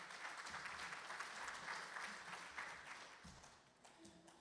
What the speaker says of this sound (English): let's give him a nice warm round of applause